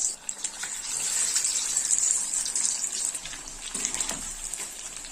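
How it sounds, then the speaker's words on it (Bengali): Chicken pakoras sizzling in hot oil, a steady close hiss and crackle of deep frying that runs continuously with no voices. "তেলটা গরম হয়েছে, এবার আমি পকোড়াগুলো আস্তে আস্তে একটা করে দিয়ে দেবো।"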